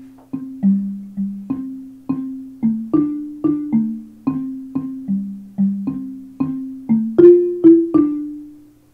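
A bass xylophone plays a steady, even melody of about twenty low wooden mallet notes, each with a quick attack and short ring, alone and clear.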